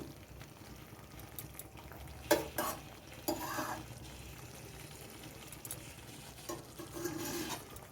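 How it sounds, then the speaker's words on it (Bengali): Homemade sour yogurt stirred into spiced potato curry for Kashmiri dum aloo as it fries in a pan, a soft steady sizzle with a few scraping stirs, quiet and close with no talk. "টক দইটা দিয়েও কিছুক্ষণ আমি নেড়ে চেড়ে নিয়েছি"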